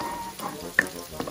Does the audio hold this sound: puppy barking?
no